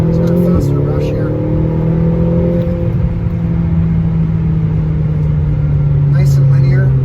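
A McLaren GT accelerates hard, its engine note held as a loud, steady mid-pitched drone that slowly sags in pitch as speed builds, with someone talking briefly over it.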